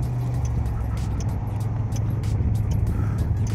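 The turn signal of a Kymco AK 550 scooter ticks in a regular series of sharp, light clicks about twice a second over a constant low engine hum.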